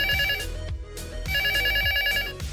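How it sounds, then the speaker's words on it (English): A 1980s telephone bell rings in two long metallic trills separated by a short pause, loud and close. "here is the sound of an 80s phone ringing"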